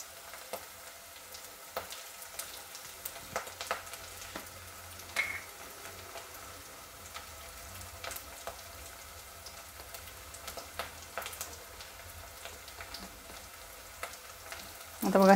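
Curry leaves sizzling in hot oil while making Maharashtrian pithla, a soft, steady frying hiss with scattered faint crackles and pops, fairly quiet throughout.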